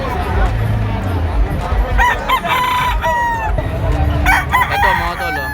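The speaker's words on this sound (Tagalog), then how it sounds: "Ito mga tol, bulik na straight comb dito sa Joe Moneymaker mga tol." A six-month-old straight comb gamefowl rooster crows loudly at a hobby expo, several drawn-out crows from it and other birds rising over clucking fowl and a busy crowd murmur.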